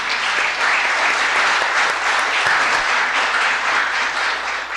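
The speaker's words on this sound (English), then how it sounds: "Let's have another round of applause for Alan." An audience at a boards and commissions orientation meeting gives a full round of applause, a loud, continuous patter of many hands clapping together with no speech.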